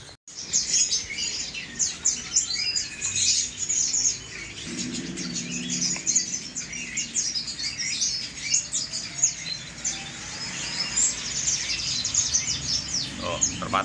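Canaries and other songbirds chirp and tweet continuously in a bird shop, a busy layer of high, overlapping calls under someone talking.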